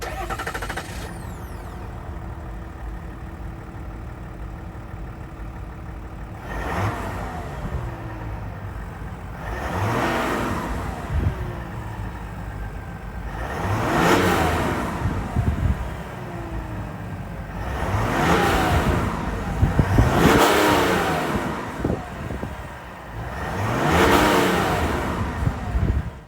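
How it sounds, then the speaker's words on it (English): A 2023 Chevrolet Silverado 1500 RST's 3.0-liter Duramax turbo diesel idles with a low clatter, then rises in five repeated revving bursts that swell and fall back, loud and close, with no talk. "that was the sound of the 3-liter Duramax diesel sold by Chevrolet for the 2023 Silverado"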